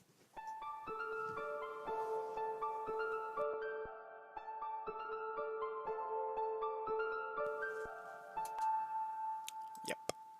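An FL Studio plucky melody treated with the Gross Beat effect, a looping sequence of bright notes with stuttered, gated breaks, fairly quiet and alone, ending with a few sharp clicks.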